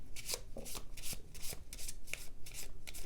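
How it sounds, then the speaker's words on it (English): Tarot cards shuffled vigorously by hand, a run of quick riffling bursts and soft papery slaps repeating in an uneven rhythm, close and fairly quiet with no voices. "I'm shuffling the hell out of these cards"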